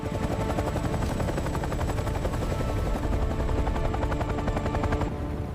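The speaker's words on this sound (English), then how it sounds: "Move to the helicopter now." A helicopter's rotor thumps in a rapid, steady chop with a constant turbine whine over it, loud and unbroken until it cuts off near the end.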